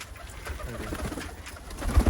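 Pigeons coo in low, soft, throaty murmurs that repeat steadily throughout, with a slightly louder burst near the end.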